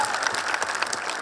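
Audience applause at a wrestling-themed stage show, a steady wash of clapping from a crowd that fills the short moment at even loudness with no voices on top.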